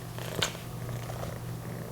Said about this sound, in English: I wonder if you can hear her purring